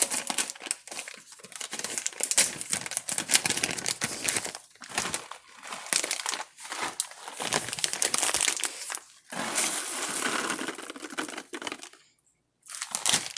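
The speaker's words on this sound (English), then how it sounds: "now we might as well add our chocolate chips. I'm going to put in half a bag" Chocolate chips are poured from a crinkly bag into cake batter in a home kitchen. Close, rustling crinkles and crunchy patters come in irregular bursts with short pauses, ending in a brief silence.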